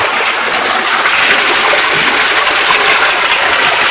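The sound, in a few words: water splashing in a tubewell bath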